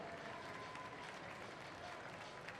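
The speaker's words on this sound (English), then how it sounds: "Hey folks, show a round of applause for all of our athletes so far." Steady crowd applause at the podiums of the Department of Defense Warrior Games indoor rowing event, a continuous wash of many hands clapping from a moderately distant audience with no talking over it.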